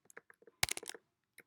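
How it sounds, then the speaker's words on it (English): Quiet keystrokes on a computer keyboard, scattered single taps and then a quick cluster of clicks in the middle, close and soft with no voices. "typing in Google"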